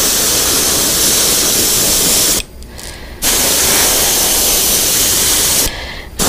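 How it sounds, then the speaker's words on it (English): Loud, steady hissing of an aerosol spray paint can, two long bursts broken by a short pause, then a brief stop near the end. "I'm just going to spray little bits here and there."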